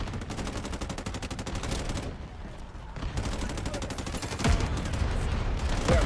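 Artillery and gunfire in a video game match rattle in dense rapid bursts, pausing briefly in the middle before resuming louder, with commentators talking over the barrage.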